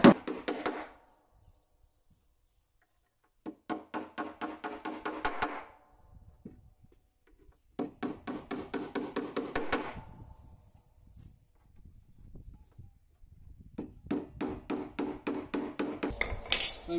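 Nails driven by hammer into a wooden batten laid on a large solid wood plank for a table, in sharp, rapid bursts of close blows separated by pauses, with quieter handling noises between.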